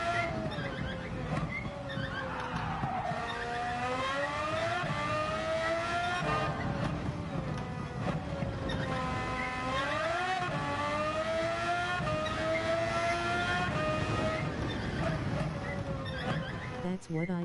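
Race car in Gran Turismo 7 driving a track, its engine whining up and down through repeated gear shifts and revving surges, sustained and close throughout while a person talks over it.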